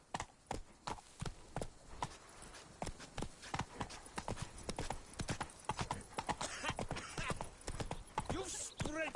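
Roach the horse gallops in The Witcher 3 with rapid, rhythmic hoofbeats, loud and close, and a brief whinny toward the end.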